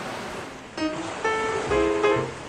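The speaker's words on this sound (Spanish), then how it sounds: "Acá desayunas con el sonido del mar." Sea surf at a seaside breakfast restaurant in Mazatlán, a faint broadband wash that rises and falls softly in the background under clinking tableware and brief tonal sounds.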